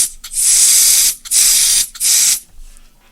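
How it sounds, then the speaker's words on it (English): Freezer spray hisses onto an electronic chip in three loud, close bursts of about a second each, with short gaps between them, before fading to quiet. "I've cooled the chip down with some freezer spray"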